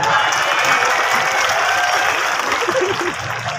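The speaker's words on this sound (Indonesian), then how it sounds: "Tepuk tangan." Audience applause at an anniversary celebration event for the city of Bogor, a dense, steady wash of clapping that carries loudly throughout and fades slightly near the end.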